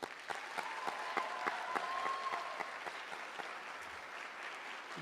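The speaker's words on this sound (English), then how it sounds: "Let's have another round of applause for this new chapter." An audience applauds at a high school drama awards night, a steady wash of many hands clapping from a distance, fairly soft and sustained, with a faint tone and scattered voices underneath.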